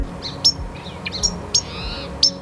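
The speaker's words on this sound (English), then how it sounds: "We also got white-crowned sparrow in here." A juvenile white-crowned sparrow in the Point Reyes wilderness gives a series of high, thin chirps and short whistled notes, about five separate calls spaced irregularly, clear and fairly close over quiet background.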